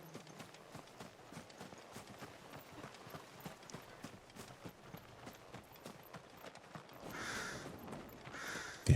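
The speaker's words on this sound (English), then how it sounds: "Yes, yes, you noisy crows." Clopping hooves mixed with crows cawing in Final Fantasy XVI, a steady trotting rhythm through most of the stretch and harsh caws near the end, at moderate volume.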